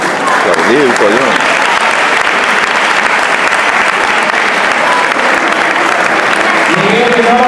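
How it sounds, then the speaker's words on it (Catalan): Sustained loud applause fills a hall at a Tavernes sports awards night for weightlifting, dense clapping throughout with voices calling out over it at the start and again toward the end. "Aplaudir, coño."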